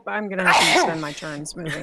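A person sneezes once in the middle of an online tabletop roleplaying game session, the burst landing among another player's talk, which continues before and after it.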